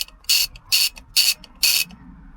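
A hand ratchet works loose bolts on a Toyota MR2 Turbo, giving four evenly spaced, rasping clicking bursts up close, each about a quarter second long, with near silence between them.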